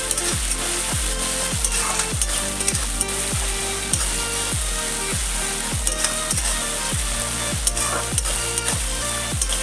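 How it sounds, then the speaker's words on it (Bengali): Ginger garlic paste sautéing in a pan for chicken curry, a loud hissing sizzle with a regular series of repeated low thumps, close and continuous, no talking. "আদা রসুনের গন্ধটা যাওয়া অবধি এটা একটু কষিয়ে নেব"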